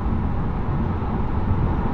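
Audi TT RS five-cylinder engine running steadily at a constant drone, deep and dense low rumble, with no speech and no gear changes.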